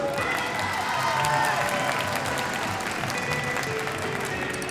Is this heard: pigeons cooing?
no